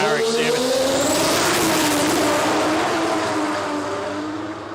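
A Mazda RX-7 drag car at a dragway start line revs hard and loud nearby, its rising and falling engine note fading toward the end as a commentator talks over it.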